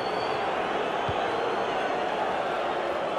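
A stadium crowd in FIFA 19 roars and cheers after a near-miss off the goal frame, a steady dense wash of noise throughout, with no voices standing out above it.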